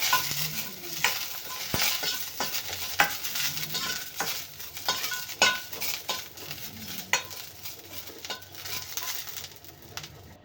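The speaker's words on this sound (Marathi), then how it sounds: "आता इथे मी घेतलेल्या आहेत मिरच्या पाच त्याला भाजून घेऊया आपण" Five green chillies roast in a pan, giving a steady soft sizzle under repeated light scraping and stirring clicks from a utensil, close by and without talk.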